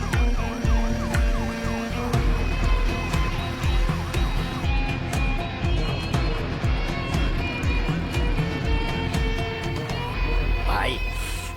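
A wailing ambulance siren rises and falls over busy street traffic and engine noise, with voices talking through it, fairly close and loud throughout.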